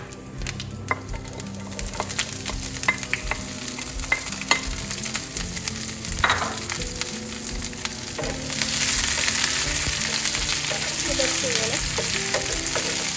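Ginger, garlic, green chilies and curry leaves drop into hot oil with fenugreek, crackling with scattered pops and stirring scrapes, then swelling into a loud, continuous sizzle for the second half.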